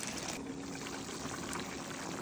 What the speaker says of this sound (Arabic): وهنزودها شويه ميه